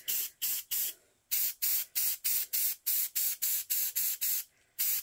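Rapid spurts of aerosol spray paint hiss close by, a quick series of about fifteen short bursts with a couple of longer pauses.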